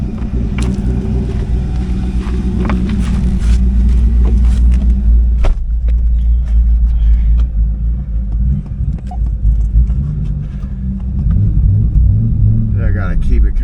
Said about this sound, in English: I gotta keep it kind of revving.